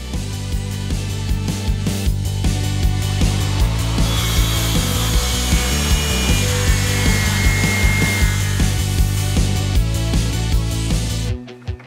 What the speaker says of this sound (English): we're going to try the dual 18-volt and see how she goes